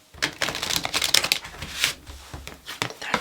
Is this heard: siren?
no